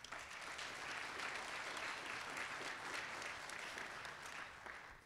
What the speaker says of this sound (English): So now we can clap for all of them.